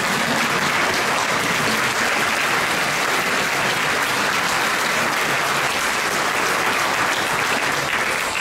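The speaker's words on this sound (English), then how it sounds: "let us give a big hand to applause to Swami Ji." An audience at a temple event gives Swami Sarvapriyananda a big round of applause, thick continuous clapping that stays loud and even from start to finish.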